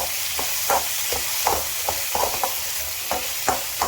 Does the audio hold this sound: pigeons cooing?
no